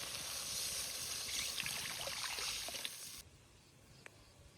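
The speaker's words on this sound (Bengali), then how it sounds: "এবার জল দিয়ে দেব।" Water is poured into spices frying in oil for a fish curry, a steady close rushing pour that stops abruptly partway, leaving a quiet simmer and a faint clink.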